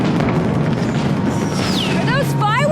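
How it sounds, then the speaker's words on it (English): Fireworks boom and crackle in the 2024 movie Twisters, a continuous loud rumbling roar with whistling rising tones near the end, mixed with people talking. "Are those fireworks?"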